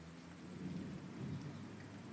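Deep thunder rolls and rumbles through a severe, rotating thunderstorm, with steady rain hiss underneath; the low rumble swells twice over a couple of seconds.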